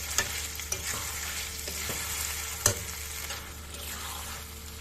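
Chicken liver curry sizzles in a pan while a spoon stirs and scrapes it in irregular strokes, with a sharp knock near the end; close and steady, with no voices.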